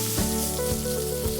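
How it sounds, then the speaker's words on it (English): A seasoned steak sizzles loudly and continuously in a hot oiled pan, a dense close frying hiss with no voices. "Once you get a nice sizzle on it, you can turn down the heat a little bit."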